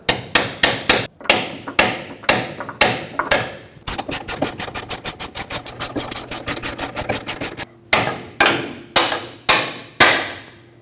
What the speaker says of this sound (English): tap it through with a hammer.